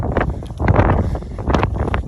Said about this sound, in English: It's a bit windy right now